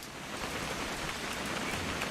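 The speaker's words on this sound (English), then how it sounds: "It's gonna rain the whole weekend, isn't it?" Steady rain in What Remains of Edith Finch, a faint, even hiss of drops falling on surfaces with no breaks, distant and continuous.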